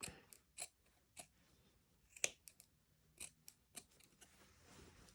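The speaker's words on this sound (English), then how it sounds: "And then I'm going to cut the hood down a little bit." Scissors snip through cape fabric while trimming down a lined hood, a series of quiet, sparse, irregular clicks and short snips, close but faint in a hushed room.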